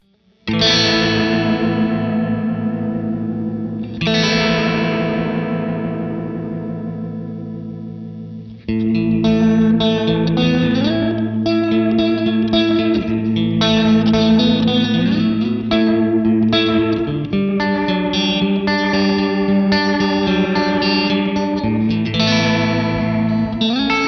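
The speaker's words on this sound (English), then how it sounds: "Let's get something like an oil can echo by increasing the speed" Electric guitar chords and notes ring out with a wobbling, warbling oil can echo effect that repeats and swirls, sustained and loud with no talking.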